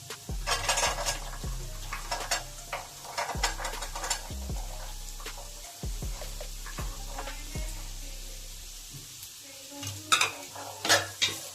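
Peas stirred into sizzling ginger-garlic masala with soya chunks in a pan, a spoon knocking and scraping the metal in irregular strokes over a constant frying hiss, close, with no talking.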